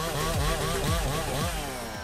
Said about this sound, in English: Chainsaws with powerful cutting capabilities have become indispensable tools in forestry, helping to cut trees and process wood effectively